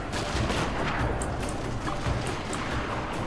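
Continuous dense gunfire from musket volleys in a Total War Shogun 2 battle, a steady roar of overlapping shots with sharper cracks on top.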